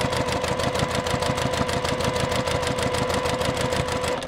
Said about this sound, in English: I'll go forward a few stitches, back a few stitches, and then carry on right to the very end